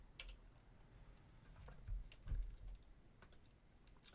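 Fingers type Python code on a computer keyboard in quick, irregular bursts of light key clicks, soft and close, with no voices.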